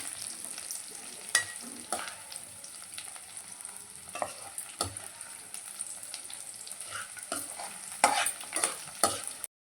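Spinach and onions frying in a pan: a quiet, crackling sizzle with scattered sharp scrapes and clicks from a stirring utensil against the pan.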